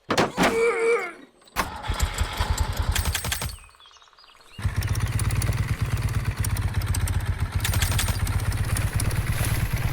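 A motorcycle found in a village in the Farmer's Life video game: a few clunks and clatters, a brief lull, then the engine settles into a loud, steady, close drone as it gathers speed.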